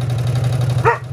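A single short dog bark pops out close by near the end, over a steady low machine hum in a home sewing room with an embroidery machine running.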